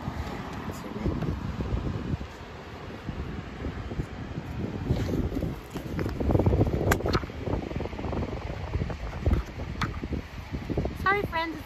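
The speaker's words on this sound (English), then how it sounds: "it's a little windy here" Gusty wind buffets the microphone in a continuous rough rumble, with brief faint chirps near the end.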